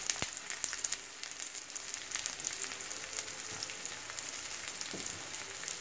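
A sesame-crusted tuna steak searing in a hot pan, giving a loud, steady close sizzle and crackle throughout with a few sharper pops.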